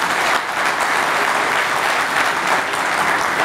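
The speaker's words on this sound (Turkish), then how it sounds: "bu arkadaşlarım için de tekrar sizlerden bir alkış rica ediyorum" Audience applause for a championship-winning club's team members, loud and sustained, with a dense, even wash of clapping that fills the whole stretch.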